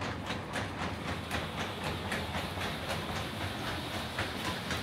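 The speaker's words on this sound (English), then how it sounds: "let's go ahead and close the tonneau." A Cybertruck's tonneau cover closes with a steady mechanical whir and a string of evenly spaced clicks that run throughout, with no talking.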